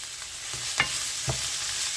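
Ground pork sizzles steadily in a hot pan, with two quick scraping knocks from a spatula stirring it; no voices.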